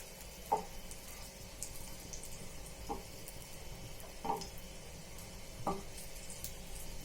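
Potatoes frying in oil for masala aloo give a soft, continuous sizzle with a few faint taps of a utensil spaced a couple of seconds apart, quiet and without talk.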